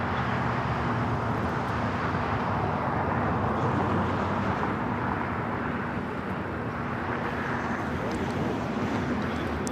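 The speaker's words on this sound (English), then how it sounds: "operated by Polar Air Cargo 992, taking off to Cincinnati" A DHL cargo jet operated by Polar Air Cargo takes off at LAX, a broad, steady roar that holds throughout at moderate distance, with no talk over it.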